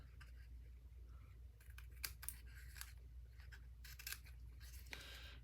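Scissors trim a paper bag for a handmade journal, a few quiet, brief snips and paper rustles scattered over a faint low hum, close but soft and with no talking.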